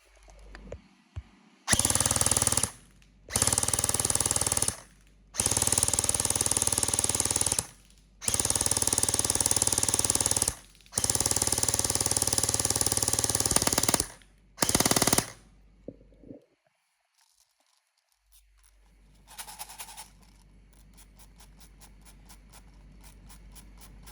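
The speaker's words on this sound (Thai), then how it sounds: "ยิงชุดหนึ่ง ปั่นแม็กตึงๆยิงได้ครึ่งแม็ก" An AKS-74N all-metal replica rifle fires long full-auto bursts in rapid, loud mechanical chatter, five or six strings separated by short pauses, then falls quiet with faint rustling afterward.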